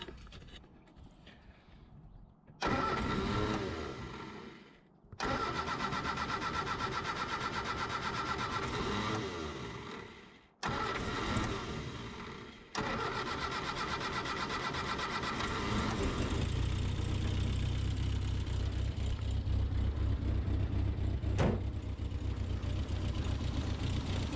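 MGB engine cranking in several bursts separated by short pauses while the fuel pump primes, then catching and running steadily, close and loud in a shop.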